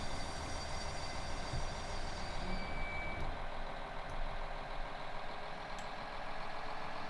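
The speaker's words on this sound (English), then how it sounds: "Wonderful voice of this engine." A Siemens Desiro BR 642 diesel railcar of DB Regio pulls away in Train Simulator 2020, its engine droning and rumbling steadily throughout, fairly close and alone with no voices.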